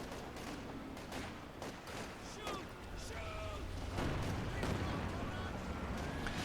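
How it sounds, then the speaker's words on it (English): A Jagdtiger tank destroyer firing in Company of Heroes 2, with repeated heavy booms and crackling battle fire at moderate distance amid ongoing combat noise, partly under talk. "I hear that Jagdtiger in action."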